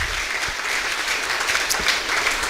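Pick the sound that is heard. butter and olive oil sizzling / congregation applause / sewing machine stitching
congregation applause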